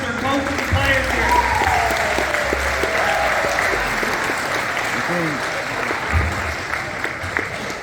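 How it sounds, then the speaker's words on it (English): A room at a minor hockey banquet gala breaks into sustained, dense applause from a large gathering, steady and loud throughout with some voices mixed in. "Let's hear a round of applause for all our parents, our coaches, and players here."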